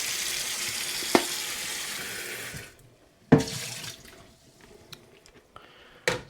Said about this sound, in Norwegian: Og så er det bare å fylle med varmt vann, så varmt du klarer.